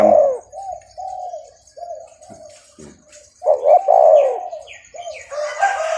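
A trained cooing dove calls in a series of low, throaty coos, some short and some drawn out, close and fairly loud, with a faint steady high whine and brighter chirps near the end.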